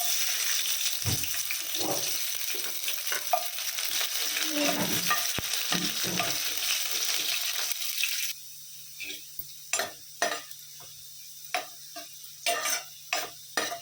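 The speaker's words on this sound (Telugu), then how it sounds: "ఆయిల్ వేడెక్కాక ఉల్లిపాయలు" Onions frying in plenty of hot oil for capsicum curry give a continuous loud sizzle with stirring for about eight seconds, then it drops to quiet with sharp intermittent clinks and taps.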